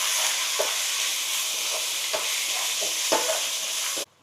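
Ginger garlic paste frying in a pan for a mutton chicken curry: a steady, close sizzle broken by several sharp scrapes of a spoon stirring, then it cuts off abruptly.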